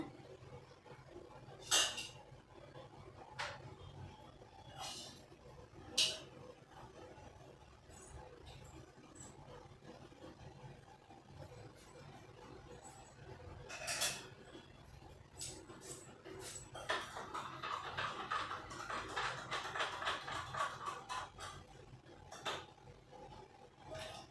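Onions being stirred in a cooking pot for chicken biryani, with a spoon scraping and clinking against the metal now and then over a low, steady background hiss, growing busier toward the end.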